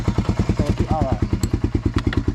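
A Honda four-wheeler idling and rolling in reverse, its engine chugging in a rapid, even, loping beat close by, with a voice talking briefly over it and a light clatter now and then.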